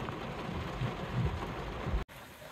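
Heavy rain pours in a constant hiss with low rumbling beneath, cutting off abruptly near the end.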